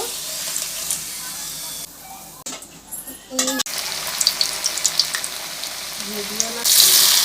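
Potato roll chips deep frying in hot oil, a loud, bubbling sizzle that runs throughout with brief breaks and a few sharper crackles and splashes.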